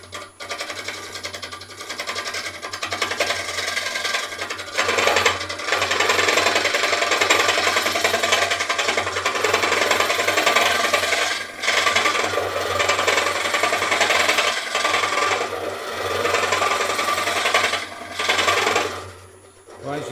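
A hollowing tool cuts into a wooden bowl blank on the lathe, a loud sustained scraping rasp that swells and dips in long passes, with a brief lull near the middle.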